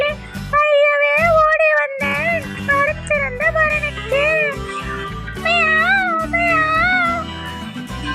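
Sung meowing lines in a Tamil nursery rhyme about a cat that went to town, set over bouncy children's music with a steady beat; the vocal meows are imitated by a singer rather than a real cat.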